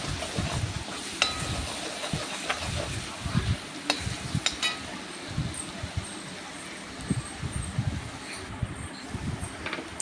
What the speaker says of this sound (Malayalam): ഞാൻ അതിലോട്ട് ഇഞ്ചി വെളുത്തുള്ളി പേസ്റ്റ് ഇട്ടിട്ടുണ്ട് അപ്പോൾ അതൊന്ന് മൂത്ത് വരട്ടെ